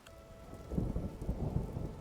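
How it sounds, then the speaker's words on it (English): Rain falls in Minecraft, a video game, a steady soft patter with a low rumbling thunder-like swell underneath, no voices over it. "sun is shining, we got a shadow here, but we've got rain falling"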